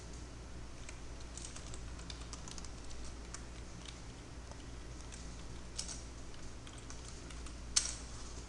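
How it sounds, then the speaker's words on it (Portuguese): Faint, intermittent computer keyboard typing with scattered soft keystrokes and a couple of sharper clicks over a steady low hum, during a C# programming lesson. "Deixa eu achar aqui no teclado."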